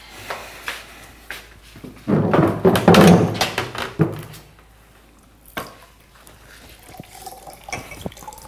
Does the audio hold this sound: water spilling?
yes